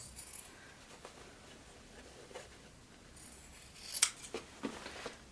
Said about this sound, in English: because I am cutting out the seams from both sides